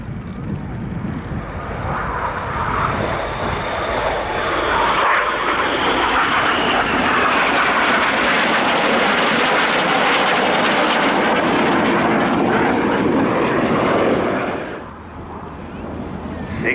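Aerobatic jets fly a Corkscrew manoeuvre at the RIAT airshow, a loud sustained engine roar that swells and holds for several seconds before easing off near the end.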